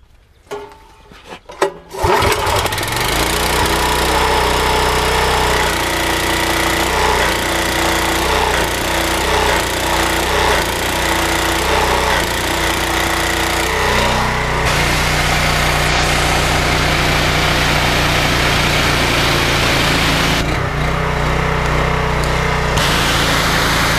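A pump engine cranks, catches and settles into a loud, steady rattling run with a constant mechanical chug close by.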